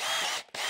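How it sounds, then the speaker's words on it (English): A power drill with a built-in countersink bit whining at high speed as it bores into wood, steady and close, with a brief dip near the end before the motor surges again. "I actually have a drill with a"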